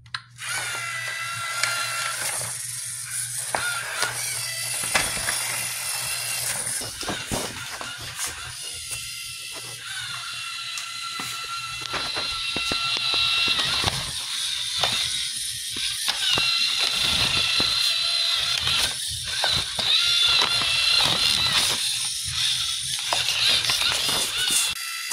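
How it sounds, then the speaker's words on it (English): A LEGO EV3 robot runs inside a hamster wheel, giving a continuous whirring, rattling mechanical clatter with ratchet-like ticking and plastic knocks that stays loud throughout. "Okay, we got the EV3 in the hamster wheel now."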